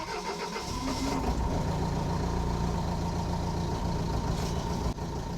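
A cheap, recently broken excavator that had sputtered from running out of fuel cranks and starts, then settles into a loud steady diesel idle heard up close.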